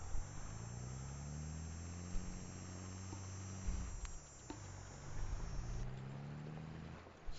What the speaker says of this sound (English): Now I can hear the tractor.